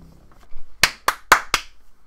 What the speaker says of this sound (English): that clapping is so I can tell where I am in the VOD